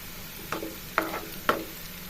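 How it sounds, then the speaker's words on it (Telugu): Okra sizzling in oil in a pan, a low steady fry under three distinct spatula scrapes spaced about half a second apart, close and quiet. "మళ్ళీ అదే ఆయిల్లో బెండకాయలను వేసుకుందాం. ఇలా 2-3 మినిట్స్ వరకు ఫ్రై చేసుకోవాలండి."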